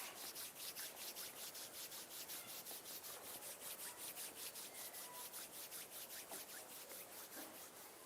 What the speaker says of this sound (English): bring the palms of your hands together at chest level and rub them gently against each other